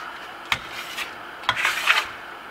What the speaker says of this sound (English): some plaster came off the tape and just scratched the board